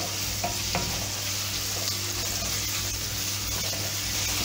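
Food fries in a pan as it is stirred until brown, a continuous dense sizzle with a few faint scraping touches from the stirring, steady and unbroken, with no voices.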